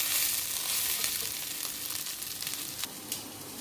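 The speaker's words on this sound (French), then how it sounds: "Je vais faire venir les oignons dans l'huile d'olive. Sur feu moyen, je fais dorer." Onions fry in olive oil over medium heat, a constant close hissing sizzle with a few faint stirring scrapes, no voices.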